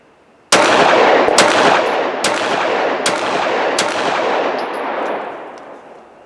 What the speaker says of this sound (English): allow the dot to settle again, squeeze off the second shot